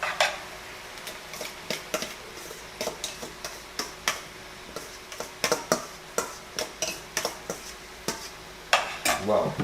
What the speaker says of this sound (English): So you can add all this rice in here.